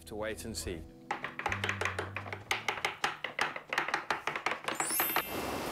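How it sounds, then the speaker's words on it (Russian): Rapid knife chops on a cutting board, a steady run of sharp taps as a chili pepper is sliced, with brief voices at the start. "Я режу перец чили."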